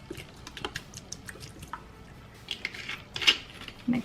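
Seasoned food with chili powder, paprika, garlic, lime and salt being mixed with a utensil in a dish, giving soft scattered clinks and scrapes, fairly quiet, with a couple of louder knocks near the end and no talking.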